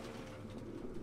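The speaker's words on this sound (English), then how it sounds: "So many pigeons." Pigeons cooing in the video game Detroit: Become Human, a soft continuous murmur of low coos from a flock, faint and steady across a brief moment.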